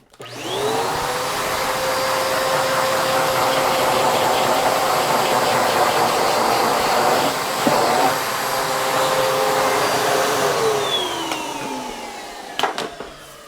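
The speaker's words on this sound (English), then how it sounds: "Vacuum cleaners are just so amazing." A vacuum cleaner runs steadily close by, sucking up grinding dust from a guitar fretboard during fret beveling and leveling on a six-string multi-scale guitar build, its loud whine holding for about ten seconds before winding down.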